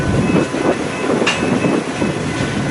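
A BNSF freight train works the rail yard at night in Fremont, Nebraska. Its low rumble is steady, with a faint clicking of wheels over rails and a brief high squeal partway through.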